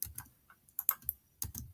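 Fast keyboard shortcut presses on a Chromebook keyboard, a short run of crisp, close key taps in quick bursts with brief pauses, no talking.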